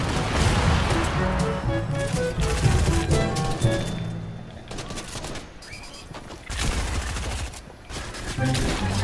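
Bursts of video game gunfire crack in rapid, dense volleys, loud and close, with short pauses between the flurries and a faint voice underneath.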